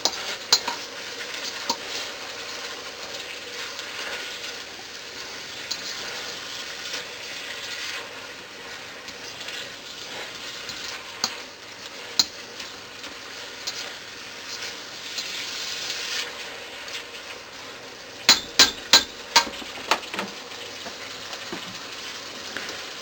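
Pancit bihon rice noodles with a good-sized cabbage cooking in a pan, a steady low sizzle with occasional stirring and utensil clinks against the pan, including a quick cluster of taps near the end.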